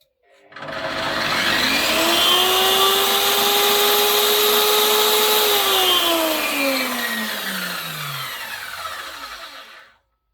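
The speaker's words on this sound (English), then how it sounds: "of the ERBAUER saw running" An Erbauer ERB690CWS plunge saw motor whirs up to a loud steady whine without cutting, holds for several seconds, then winds down as the pitch falls away.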